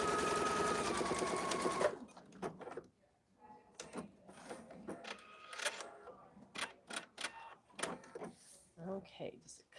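Sewing machine quilting straight lines along printed fabric for a zippered project bag: a steady close whir for about two seconds, then short bursts of stitching between pauses while someone talks over it.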